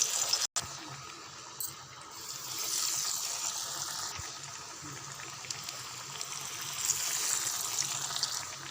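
Masala vada patties slid into hot oil in a pan, giving a steady, close hiss and bubbling sizzle that fills the whole stretch with small crackles, no voices.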